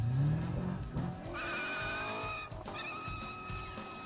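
A Corvette drives hard with its tires skidding: a close, loud screeching squeal rides over the engine roar for about four seconds, its pitch shifting as the car slides.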